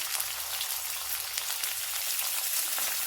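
Onion, green chili, dried red chili and curry leaves sizzling and crackling in hot oil for beetroot poriyal, a steady close frying hiss with scattered pops and no voices.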